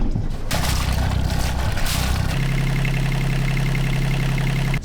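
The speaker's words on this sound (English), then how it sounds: "Turning the ignition on and then heating up the glow plugs" A sailboat's diesel engine cranks after its glow plugs are heated, then catches and settles into a steady, loud, close idle with a low even rumble.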